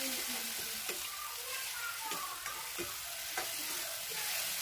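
Tomatoes with onion and ginger-garlic paste are being stirred and fried for an Assamese duck egg curry, a soft steady sizzle broken by several sharp scrapes of a spoon against the pan, close and fairly quiet.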